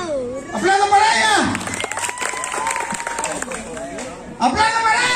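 Audience applauding and cheering for a dance competitor, loud bursts of crowd clapping at the start and end, with voices calling out over the noise between them.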